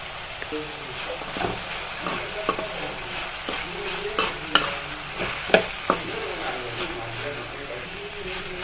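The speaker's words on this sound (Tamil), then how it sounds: "கொஞ்ச நேரம் எண்ணெயில் நல்லா ஃப்ரை ஆகட்டும்." Cut bitter gourd with curry leaves fries in oil, a continuous crackling sizzle broken by repeated scraping stirs and sharp clinks of the spoon against the pan.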